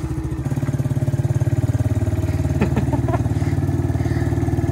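A small Amazon-bought four-wheeler ATV idles in first gear with barely any throttle, its engine chugging in a steady, rapid putter close by, with a few light clanks partway through.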